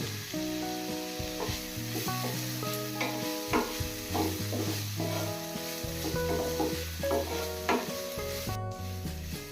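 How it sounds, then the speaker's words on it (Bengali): Cabbage, green chillies and salt stir-fry on high heat for chicken hakka noodles. A steady, loud sizzle sounds with rhythmic scraping strokes, under background music throughout. "সবজিগুলো হাইতে ভেজে নেব"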